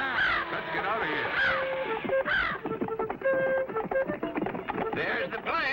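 A cartoon bird caws repeatedly in harsh, rhythmic cries, loud and close, mixed with a music score and dramatic sound effects in a vintage animated adventure.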